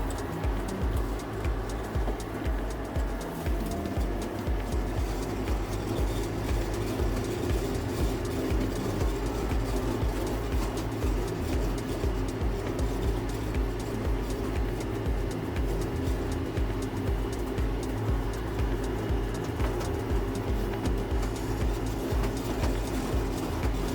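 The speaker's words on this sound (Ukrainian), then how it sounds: "потихеньку двигун починає прогріватись дуже рівно, плавно все працює." A John Deere 6800 tractor engine rated at 120 horsepower idles and runs steadily close by, a continuous rough diesel rumble with a clattering rhythm and no talk.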